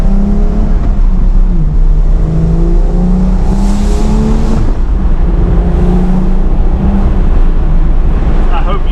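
A 2023 Porsche 911 Targa 4 GTS drives with the top down, its engine note rising, falling and stepping through gear changes beneath heavy rushing wind, loud and continuous.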